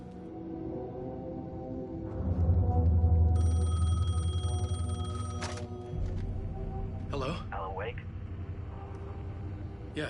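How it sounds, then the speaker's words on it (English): A telephone bell rings in a burst of metallic jangling over a low rumbling drone and other background sounds, with speech heard around it. "The phone was ringing."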